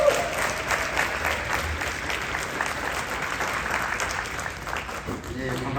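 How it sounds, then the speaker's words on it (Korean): A seminar audience applauds to welcome a lawyer coming up to lecture on an anti-discrimination law, a steady, full round of clapping from many people that holds evenly throughout, with a murmur of voices underneath. "박수로 우리 환영하겠습니다"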